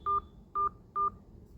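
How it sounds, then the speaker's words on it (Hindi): A telephone keypad beeps as a 4-digit PIN is entered: three short, clear, evenly spaced tones sound alone, close and crisp. "कृपया अपना 4 अंकों वाला पिन दर्ज करें"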